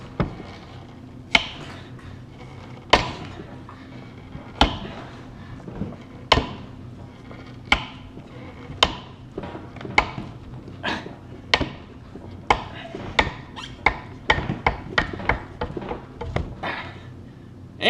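Hammer blows strike car control arm parts clamped in a bench vise, sharp metallic impacts landing at irregular intervals, mostly spaced a second or two apart and bunching into quicker strikes toward the end, loud and close.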